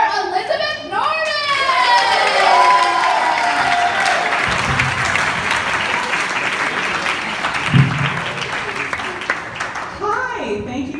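Audience at an outdoor stand-up comedy show breaking into loud, sustained applause and cheering with whoops, a dense wash of clapping that fades as the comedian begins talking.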